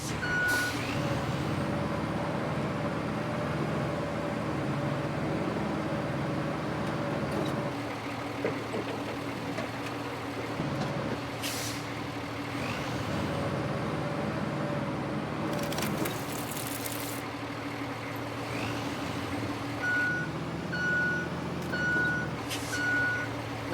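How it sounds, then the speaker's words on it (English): A heavy truck in the game RoadCraft idles and rumbles steadily while evenly spaced reversing beeps sound near the start and again in a quick series toward the end, with occasional hiss bursts over the engine drone. "This truck is powerful."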